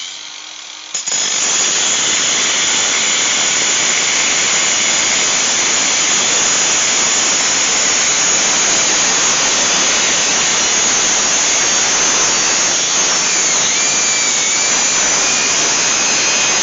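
A cutoff wheel grinds through the pipe of a blown muffler, a loud, steady, harsh hiss-whine that starts after about a second of near-silence and runs unbroken to the end.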